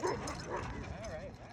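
A dog in a cargo van giving soft yips and whimpering barks under close, steady conversation, with a muffled background rumble.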